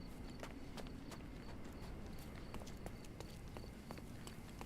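Hooves clip-clop faintly in Sherlock Holmes: Chapter One, a horse's steady irregular steps tapping over a low outdoor ambience.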